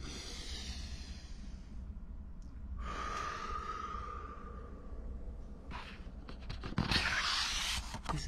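Slow, deep breathing at a library storytime, quiet inhales and exhales drawn out over several seconds against a soft room hiss, ending with a louder rustle.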